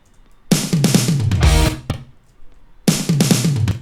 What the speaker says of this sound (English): which starts with this crazy drum fill